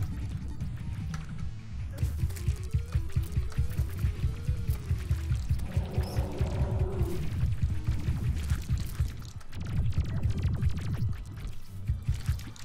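Water Bolt spell cast repeatedly in the game Terraria during a Brain of Cthulhu boss fight, a steady run of splashy, pouring water bursts over busy game noise.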